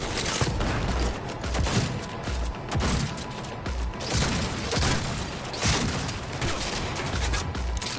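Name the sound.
gunfire in video game Cyberpunk 2077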